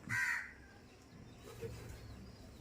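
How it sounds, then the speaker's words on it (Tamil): A single loud crow caw at the start, followed by quieter outdoor ambience with a faint second call. "எம்பிட்டு காக்கான்னு பாருங்கள்."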